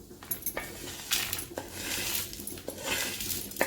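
Roasted ridge gourd pieces are scraped off a hot iron griddle onto a plate, giving quick metallic clinks and scraping scuffs in an uneven rhythm, close and fairly quiet.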